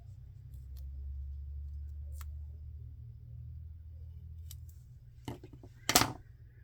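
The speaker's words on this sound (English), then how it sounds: "I want my scissors out again because I'm going to cut a couple of these in half." Scissors cut craft pieces in half while making a Christmas card: a couple of faint snips followed by two sharper crisp cuts near the end, close, over a low background hum.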